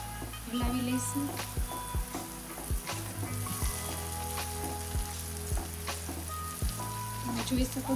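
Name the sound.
sakkarpara frying in hot oil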